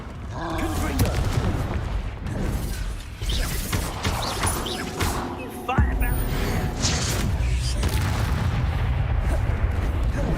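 Explosive Confringo spell blasts from Hogwarts Legacy combat, a run of loud booming bursts and crashes over a constant game soundtrack, with a voice talking throughout.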